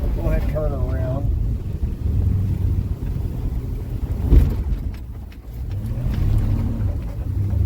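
A 1965 Dodge Dart 270 drives slowly across a pasture, its low engine rumble steady beneath wind buffeting the microphone, with people talking over it at the start and again near the end.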